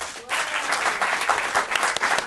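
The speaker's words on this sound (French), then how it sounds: "ça s'applaudit s'il vous plaît" A crowd bursts into loud, sustained applause, dense clapping that continues without pause.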